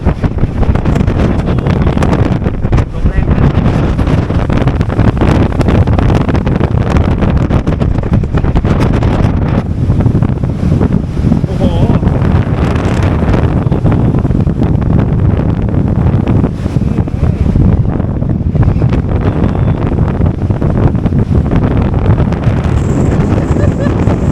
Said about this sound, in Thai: ฝั่งนี้ลมจะแรงกว่าฝั่งโน้นไหมเนี่ย